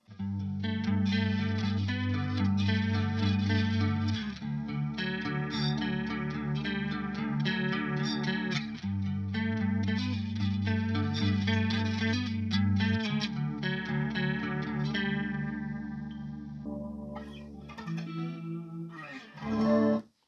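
Electric guitar on the neck pickup with coil split, running through a Pogolab chorus pedal: warm, shimmering chorused chords and melodic lines played continuously and close, fading into a few sparse notes at the end.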